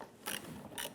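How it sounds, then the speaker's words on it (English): A 3/8 socket ratchet loosens a nut on a side marker light of a 1997–2006 Jeep Wrangler, giving two quick ratcheting clicks close up, with quiet workshop ambience between them. "Now we're going to use a 3/8 socket on our ratchet."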